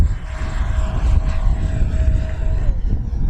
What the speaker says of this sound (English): Got to fly it inverted just a little bit, Steve.